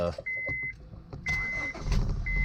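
A 2001 Honda Civic EX's chime beeps while the engine turns over and catches, settling into a close, steady idle.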